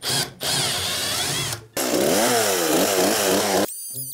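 A power saw cuts through floorboards during a house renovation. The whining motor runs loud and close in long bursts, with the pitch dipping under load and two brief pauses. No one speaks.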